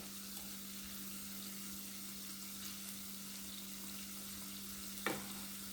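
Vegetable fritters frying in hot oil just after being flipped, a steady close sizzle running throughout with one brief sharper crackle near the end; no talking.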